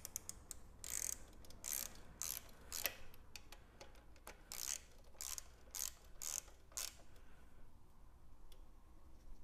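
Ratchet wrench tightening the oil drain bolt on a Honda Big Ruckus scooter during an oil change: bursts of quick metallic clicking strokes, close and fairly quiet, repeated with short pauses and no talking.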